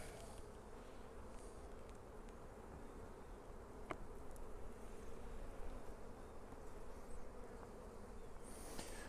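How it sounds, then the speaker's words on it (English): Honeybees packed into a hive box give off a soft, constant buzzing drone, even and unbroken, with a couple of brief knocks and clicks and no speech. "The bottom's packed full of bees."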